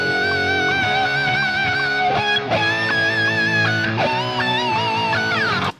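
Distorted electric guitar plays the solo from a song, a continuous lead line of sustained bent notes and quick runs over a steady backing, loud and unbroken from start to finish.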